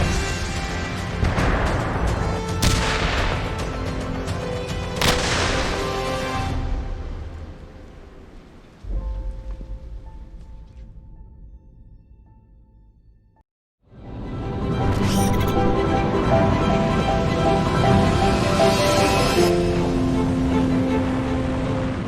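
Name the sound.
military explosions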